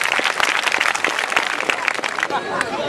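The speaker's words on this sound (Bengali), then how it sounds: "ওদের জন্য জোরে হাততালি।" An audience at an outdoor picnic stage show claps loudly for two young performers, a dense, continuous burst of crisp hand claps lasting a few seconds.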